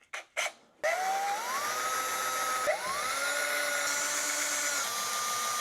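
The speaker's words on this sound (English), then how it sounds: "if you use a drill, I would use the Music Nomad attachment drill bit, and then I would set your drill with the lowest possible setting" A power drill fitted with a Music Nomad string-winder bit winds guitar strings at its lowest speed, giving a steady whirring motor whine that ramps up in pitch, briefly stops, then restarts and runs on continuously, close and alone.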